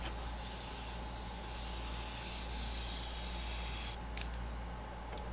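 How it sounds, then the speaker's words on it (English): An airbrush sprays gray paint from a distance in a steady, even hiss that runs for about four seconds, then cuts off, leaving only a couple of faint short puffs. "I'm just gonna like spray from a distance with some gray"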